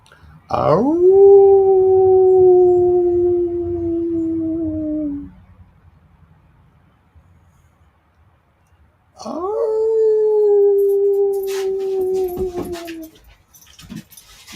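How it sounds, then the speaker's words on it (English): A Pomeranian or Welsh Springer Spaniel howls in two long, steady, sustained wails separated by a pause of near silence, loud and close, with a faint knock at the end. "Jam, you don't even sound like a dog howling"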